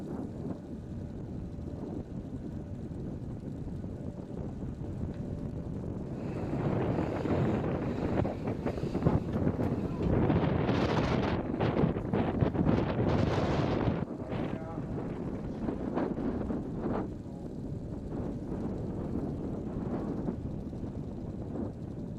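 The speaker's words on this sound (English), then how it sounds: "You can see just how strong the wind is blowing around this natural bowl." Strong southwesterly wind blows around the natural bowl of a Spanish race circuit at a EuroNASCAR round, buffeting the microphone in heavy, roaring gusts that swell and fade beneath a commentator's voice.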